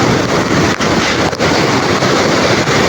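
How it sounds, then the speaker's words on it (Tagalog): Rough sea waves churn and wash continuously under strong monsoon wind during a typhoon, which buffets the microphone, a loud, steady roar with occasional gusty dips. "Halos matadala tayo ng alon."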